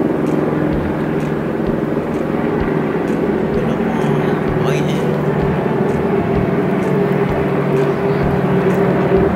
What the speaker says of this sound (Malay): Seronok dapat naik helikopter tu.